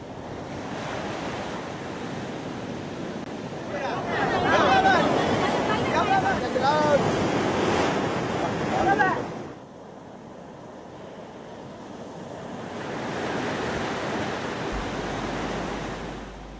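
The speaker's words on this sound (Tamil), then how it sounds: "ஓயாமல் சேரும் அலைகள், வீட்டு வாசல் வரை வந்து மோதும் அலைகளால்" Rough sea surf at Chennai's Pattinapakkam shore during a sea incursion, waves crashing up to house doorsteps with a steady roaring wash, strong wind buffeting the microphone and murmuring voices underneath.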